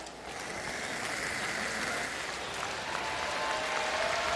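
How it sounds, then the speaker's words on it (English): A crowd at the World Men's Curling Championship applauds, a steady wash of clapping that holds throughout and swells slightly toward the end. "Crowd already applauding."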